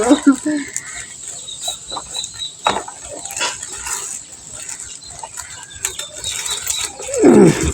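Hungry chickens and ducks clucking and calling for food in a yard, scattered bursts of calls with a louder squawk near the end, mixed with other rustling noises.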